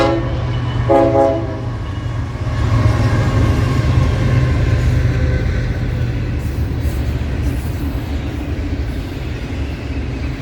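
A BNSF freight locomotive sounds a short horn blast, then its train rumbles past loudly and steadily, the rolling roar of the cars filling the rest of the passage.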